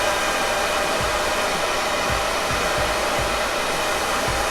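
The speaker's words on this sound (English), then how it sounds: "take the hair dryer on hot, go down to low speed" Hair dryer set to hot on low speed, warming mustache styling clay, blows a steady, loud broadband rush of air for the whole stretch, with faint periodic low thumps beneath and no talking.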